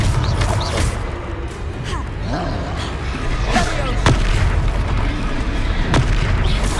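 Confringo fire-blast spells explode in a Hogwarts wizarding video game battle, a series of booming blasts and sharp bursts over continuous game noise and music, with a voice speaking between the hits.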